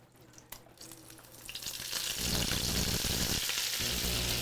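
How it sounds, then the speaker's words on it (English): Food fries with teriyaki sauce in a Lodge cast-iron pan, opening with a quieter crackle and a sharp clink, then swelling into a loud, dense, continuous sizzle that holds close and steady to the end, with no talking. "So let this fry up a little bit."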